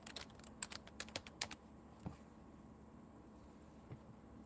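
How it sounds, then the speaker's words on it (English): A quick burst of typing on a computer keyboard while searching a toy store website, a dozen or so crisp clicks in the first second and a half, then a few isolated taps in a quiet room. "Type in Beta Ray Bill."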